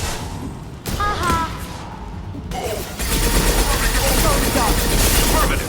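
The concussive shot ability fires in Mass Effect 2 among continuous combat gunfire, with heavy blasts and steady shooting that grows denser and louder halfway through.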